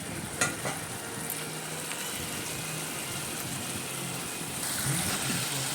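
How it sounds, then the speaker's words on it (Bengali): Prawn malai curry with coconut powder is stir-fried on a high flame, giving a continuous loud sizzle with a few sharp utensil clinks near the start and no voices. "এই কোকোনাট পাউডার দিয়ে আমরা একটু নেড়ে চেড়ে নেবো ভালো করে মোটামুটি দু থেকে তিন মিনিট হাই ফ্লেমে"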